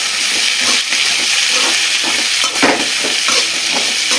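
Chopped spinach sautéing in a pan for a spinach and egg dish, a steady close sizzle and hiss with light stirring scrapes throughout, and no voices.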